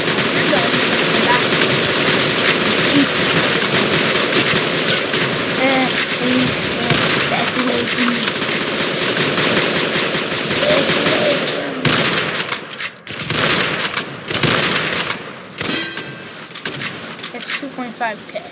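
Sustained machine gun fire in a World War 1 video game, a dense continuous rattle of rapid shots that breaks into shorter bursts near the end, with a voice talking over it.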